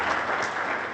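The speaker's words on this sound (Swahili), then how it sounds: "Makofi tafadhali kwa mwingine tena." At a hotel launch in Arusha, an audience claps in a brief, dense burst of steady applause with no speech over it.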